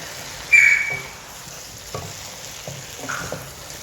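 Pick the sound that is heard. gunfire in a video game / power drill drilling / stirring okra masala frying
stirring okra masala frying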